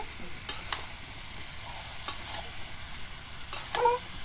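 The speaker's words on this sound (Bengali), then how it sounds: "এখন আলু বেগুনগুলো এর ভিতরে দিয়ে দিলাম, দিয়ে ভালো করে" Potato and eggplant pieces are stirred and fried in a cooked-down spice masala in a pan, with a steady sizzle under a few sharp scraping strokes of the spoon, close and moderately loud.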